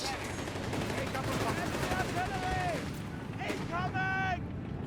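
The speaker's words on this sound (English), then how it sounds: "some fresh mortar fire there" Mortar and gunfire crackle through a Company of Heroes 3 match between Afrika Korps and US Forces, steady dense battle noise with sharp reports and whistling shells, sitting under continuous commentary.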